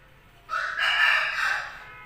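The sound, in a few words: rooster crowing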